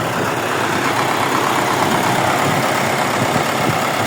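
An old YuMZ tractor engine runs steadily while disking a field, a loud, continuous, rough mid-low drone with no pauses and no voices.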